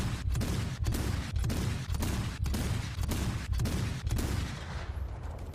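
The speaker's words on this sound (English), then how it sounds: "that's why each gun is cutting each other off when I'm doing the ranging shot" A tank gun fires ranging shots in War Thunder, a rapid series of about ten loud booming reports at an even pace, each cutting off the previous one, with no talk over them.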